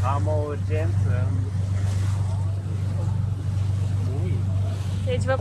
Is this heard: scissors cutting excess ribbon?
no